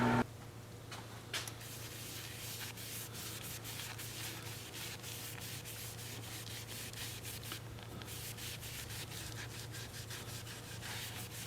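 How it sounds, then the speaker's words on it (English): Steady close-up sanding of a live-edge wooden bowl on a spinning lathe, a continuous scratchy rubbing over a low motor hum with brief pauses. "the sanding was time consuming, just like I thought it would be"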